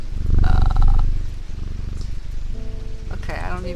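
A cat purrs in a video game with a low, rumbling purr that swells early and then continues softer beneath light patter and a few brief tonal game sounds.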